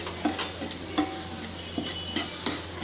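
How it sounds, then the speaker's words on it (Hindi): Spiced moong dal kachori filling with coarse coriander, fennel and salt is roasted in a pan. A utensil gives soft, regular scrapes and taps about every half second over a low background hum. "इसको थोड़ा सा 1 मिनट तक ऐसे भून लेते हैं।"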